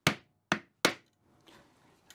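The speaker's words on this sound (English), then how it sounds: "Also notice the hammer I'm using. It's one of these nylon hammers because I don't want it to mark it." A nylon hammer taps a wooden stretcher on a vintage dining chair being restored: three sharp, close knocks in quick succession, followed by faint rustling handling noise and a final light tap, with no talking.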